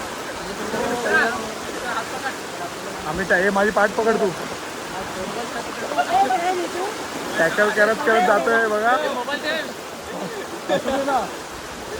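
A swollen river rushes past with a strong current, a steady broad roar of water close by while people wade through it, talking loudly over the flow.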